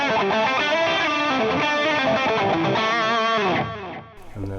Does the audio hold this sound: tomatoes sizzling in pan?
no